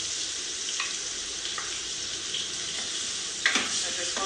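Tomato paste going into frying beef masala: a steady, close hiss of sizzling oil runs throughout, with a brief louder spatter and a few light utensil taps.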